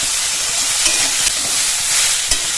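Bitter gourd and potato fry in a covered pan over a low-to-medium gas flame, a steady bright sizzle and hiss with occasional soft stirring clicks, close and continuous, no voices.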